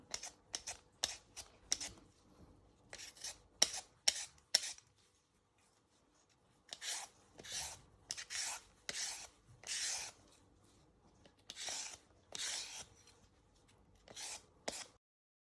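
A vegetable peeler scrapes down carrots in quick rasping strokes that come in bursts, with short pauses between them. The scraping is close and crisp, and no one speaks.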